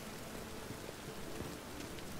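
Rain falls in The Witcher 3, a steady, even hiss of rain on surfaces heard alone and fairly faint throughout.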